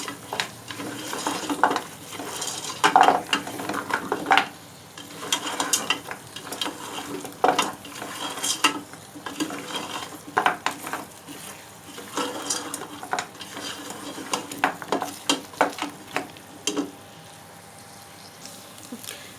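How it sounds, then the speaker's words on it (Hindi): Mutton trotters (paye) being fried in spice masala in a pot: a soft continuous sizzle under repeated scraping and clinking stirs from a utensil, with no talk. "अब हम इसमें पाए शामिल करेंगे। अच्छी तरह से भूनेंगे इन्हें"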